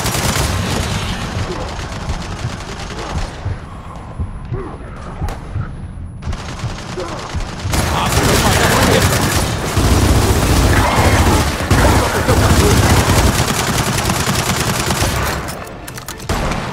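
Turret fire in Gears of War 4, with dense rapid automatic bursts and heavy shots. A quieter pause comes near the middle, then the shooting returns louder and sustained, mixed with other game sounds.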